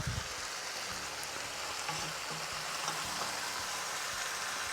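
Chicken pieces with onions and marinade searing in a single pan over high heat, giving a steady, dense sizzle and hiss that stays loud and even throughout with no talking.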